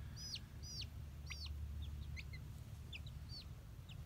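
Young chickens, a mix that may include roosters, loose outdoors and making repeated high cheeping and soft clucking calls in irregular bursts over a low steady background rumble, with no talk.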